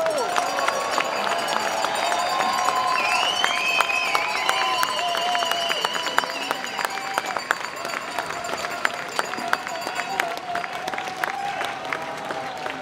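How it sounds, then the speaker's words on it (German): Audience applause on a stage event in Zürich-Oerlikon, moderately loud clapping that carries on steadily with crowd noise and voices layered over it. "Herzlichen Applaus."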